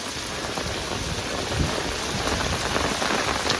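Heavy rain pours steadily during a village storm, a dense, loud, continuous wash of drops close by with no voices.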